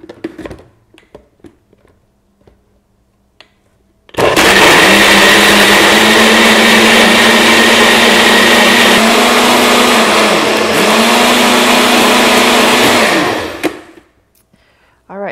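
A Nutri Ninja or Nutribullet personal blender blends a smoothie after a few faint clicks. It gives a loud, steady motor whir for about nine seconds, then spins down.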